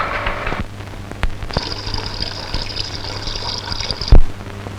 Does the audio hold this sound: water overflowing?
yes